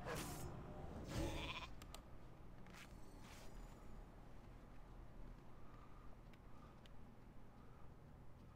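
Several short sheep bleats in World of Warcraft near the start, followed by a steady low rumble and scattered faint clicks and thuds in a game-like soundscape.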